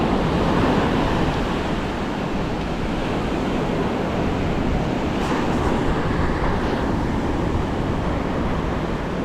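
Ocean waves break and wash through shallow water at a beach or lake entrance, a loud, continuous close surf roar with wind buffeting the microphone.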